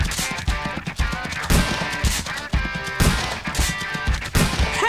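Gunshots aimed at wild boar in the hunting video game Remington Super Slam Hunting, with several loud reports in a row that ring out over a steady game soundscape.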